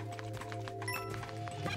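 Riding a biceratops in Super Mario Bros. Wonder: quick, regular clip-clop footfalls patter over bouncy game music, light and evenly paced.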